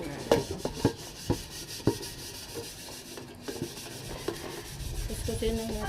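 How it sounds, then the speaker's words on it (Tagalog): A blackened cooking pot being scrubbed with ash, with rough gritty rubbing strokes and repeated sharp scraping knocks close by, with no talk. "Kuskusin lang natin ng kuskusin"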